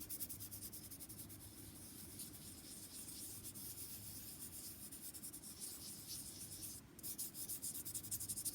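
A finger wrapped in paper towel rubs and smudges a drawing on paper, making a soft, continuous scratchy rubbing close to the mic with a brief pause near the end.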